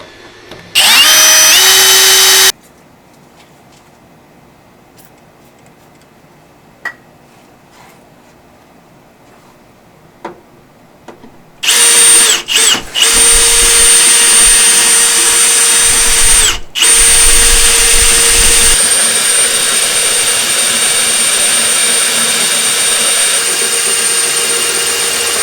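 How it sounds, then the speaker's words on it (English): A power drill whines loudly in a short burst, goes quiet for several seconds, then drills again in a long, high-pitched run with brief stutters, drilling holes for a custom winch bumper on a K5 Blazer. "Alright, so we got our holes drilled."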